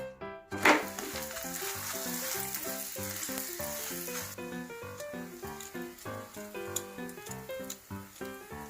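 Methi lachha paratha sizzles in oil on a pan over medium flame, a soft continuous hiss with occasional crackles beneath a louder rhythmic musical backing.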